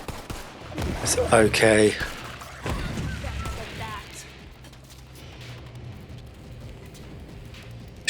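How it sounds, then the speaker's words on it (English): Gunfire from Borderlands 3 as skags are shot, with a loud cluster of rapid shots and impacts early on. Game effects follow and fade to a quieter background, and a voice speaks briefly. "it's always a good way to test your weapons is to see how quickly you can kill these skags"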